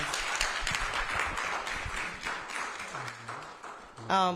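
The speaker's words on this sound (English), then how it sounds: "give Ms. Issa and Council Chair Doug Lawson another big round of applause." Steady applause from a room of people at a Riviera Beach council gathering fills the scene, a dense patter of clapping that fades slightly before a brief louder burst at the end.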